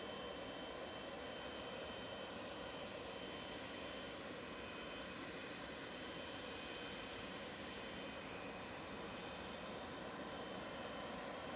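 A Qatar Airways airliner arriving at Manchester Airport, its engine roar loud and steady throughout, with broadband jet noise holding constant for the whole span and no talk.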